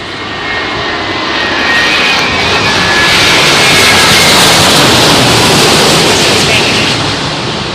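Jet airliner engines roar loud and steady during a crosswind landing at Heathrow Airport, a broad rushing blast that swells slightly and holds for several seconds with a thin whining tone inside.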